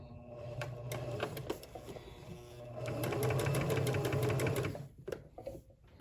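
Sewing machine stitching the open edge of a pillow, a fast mechanical whirring clatter that runs in short bursts, then steadily, then slows and stops, close and moderately loud with no talk.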